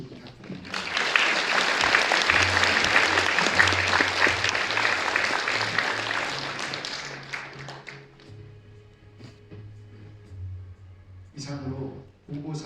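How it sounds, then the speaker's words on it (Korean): An audience at a Hyundai Motor shareholders' meeting at L Tower gives loud, dense applause that swells and lasts several seconds, then fades. Someone speaks over a microphone afterward. "수고해 주신 이인하 상무에게 다시 한번 박수 부탁드립니다."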